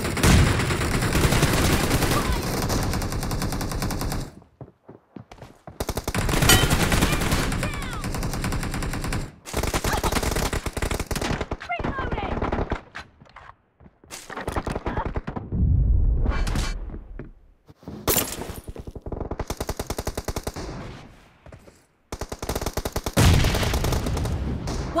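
Sustained automatic M416 rifle fire in a team deathmatch video game, loud bursts and rapid rattling volleys broken by short pauses, with thuds and game effects mixed in.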